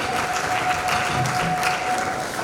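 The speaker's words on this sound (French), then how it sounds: "Est-ce qu'on peut encore bien acclamer?" Applause fills the hall at an archbishop's 60th birthday celebration, a steady, dense clapping from a large crowd that holds evenly from start to finish with no pause.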